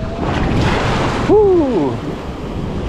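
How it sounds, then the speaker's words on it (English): Ocean surf washes on a shore after Hurricane Ian, a steady broadband roar with wind buffeting the microphone; midway a person lets out a brief excited shout. "That was all the wave."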